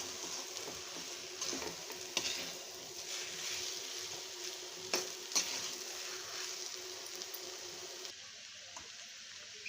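Moong dal dry-roasting in a pan for halwa, a continuous soft crackling sizzle with faint scraping stirs, close and steady throughout, dropping slightly quieter near the end.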